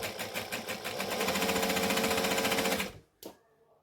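A sewing machine stitches a Christmas tree skirt in a loud, fast, rattling run for about three seconds, sounding a little odd while it works, then stops with one brief clunk afterward.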